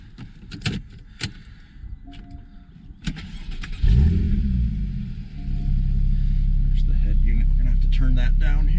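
A 2014 Porsche Boxster 981 fires up after a few clicks and key jangles, its engine catching with a loud crank and flare before settling into a steady, deep idle rumble that fills the rest of the clip.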